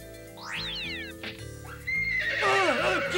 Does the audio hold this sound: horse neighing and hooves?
yes